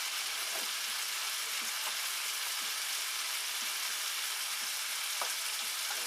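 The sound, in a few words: steak searing in a pan with butter and garlic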